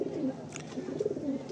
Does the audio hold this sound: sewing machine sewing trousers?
no